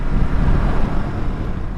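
Steady roar of wind buffeting the microphone during a motorcycle ride through the Canadian Badlands near Drumheller, loud and unbroken throughout, with no talking.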